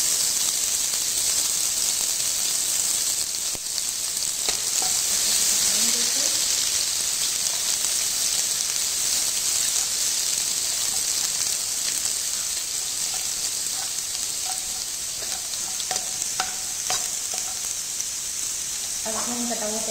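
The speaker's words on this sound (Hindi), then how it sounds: "अब इसमें हमने जो अदरक कद्दूकस की थी वो डाल देंगे" Grated ginger and garlic sizzle steadily in hot oil in a pan for an egg curry gravy, with a constant bright frying hiss, occasional stirring scrapes and a few faint clinks near the end.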